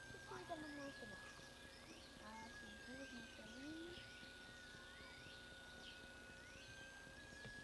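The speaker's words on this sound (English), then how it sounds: "Do you hear the birds?" Birds chirp and sing outdoors beside a tree and a telephone pole, with scattered short calls over a steady background hiss and a faint murmur of voices.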